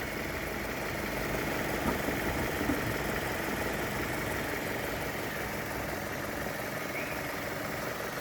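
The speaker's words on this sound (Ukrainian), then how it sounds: "отак дивіться працює двигунчик, слухайте, моркоче" A 2006 Mazda6 2.0 petrol engine idles steadily, a low continuous rumble with faint mechanical knocking, quiet and unbroken throughout.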